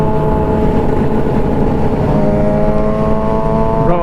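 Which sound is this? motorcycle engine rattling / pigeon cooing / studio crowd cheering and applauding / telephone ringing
motorcycle engine rattling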